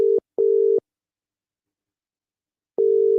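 A telephone busy tone on a call that fails to connect, steady pulsed beeps with short gaps then a longer pause, clear and alone without talk.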